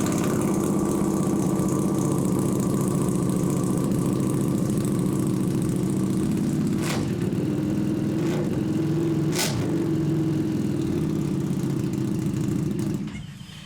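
A cold vintage motorcycle engine idles steadily just after its first startup, running rich with a low, continuous rumble close by for the whole stretch, broken by a few sharp clicks before the engine cuts off at the end.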